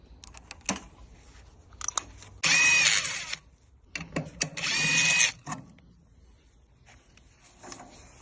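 Two long bursts of a handheld power tool stripping parts off a pair of aquarium racks, loud and close, each lasting a few seconds with sharp clatters and knocks between them and no talking.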